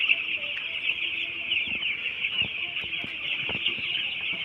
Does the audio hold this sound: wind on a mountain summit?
no